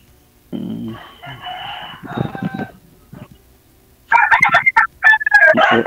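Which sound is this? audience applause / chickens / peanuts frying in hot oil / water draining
chickens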